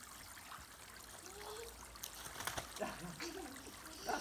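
Water splashed by hand onto a German Shepherd in a garden, a light trickling and splattering with a few sharper splashes toward the end, heard under a voice.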